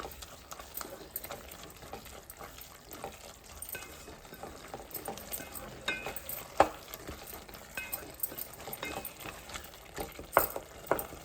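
A spoon stirs ginger garlic paste into cooked tomatoes in a pan, making repeated scraping and clinking strokes over a soft, continuous sizzle of frying close by.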